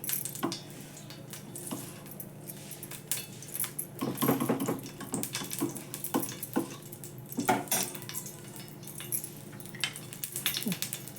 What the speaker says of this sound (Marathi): खसखस भाजून घेते खोबरं भाजून घेते